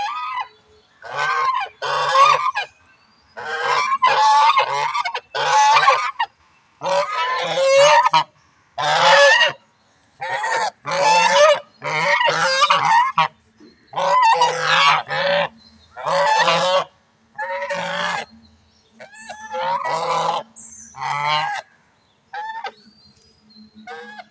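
Geese honk loudly and close by in a long series of rapid, bursty calls with short pauses between groups, continuing for the whole stretch with no talking.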